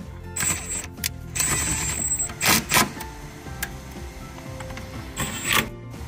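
Bolts being tightened by hand on a Toyota Corolla GR shifter during a shifter bushing install: close metallic ratcheting and clicking in irregular bursts, with tool handling clatter between them.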